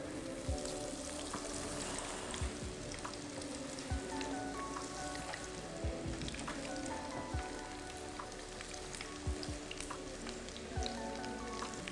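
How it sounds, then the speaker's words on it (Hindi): Mixed vegetable pakoras deep frying in hot oil, a steady dense sizzle and crackle with bright pops and bubbling throughout, fairly close and continuous with no talking. "जब तक हमारे ये पकोड़े फ्राई हो रहे हैं"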